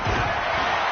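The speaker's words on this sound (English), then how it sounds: "the crowd getting into it as we come up on a big third down" A stadium crowd in an American football video game roars in a loud, steady wash of cheering that fills the brief moment before a big third down.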